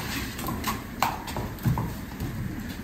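Horse hooves clip-clop at a walk on firm ground, a few irregular soft thuds fairly close, with light background noise and no speech.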